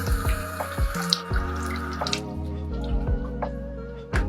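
Tap water runs into a sink while a cotton swab is wetted, with close dripping, splashes and soft squishy handling sounds over a few seconds.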